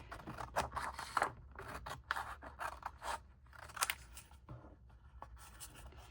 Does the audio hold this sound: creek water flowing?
no